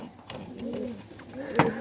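Pigeons coo close by in soft, throaty rising-and-falling phrases, with a few sharp clicks and rustles between the calls.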